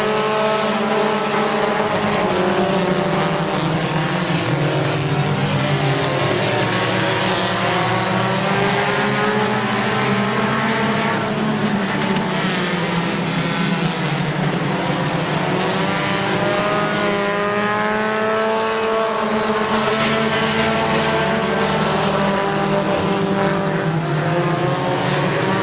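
Race cars roar around the oval at Midvale Speedway as the green flag drops, a dense, loud, continuous wall of engine noise with layered revving pitches that shift as the pack accelerates, sustained for the whole stretch.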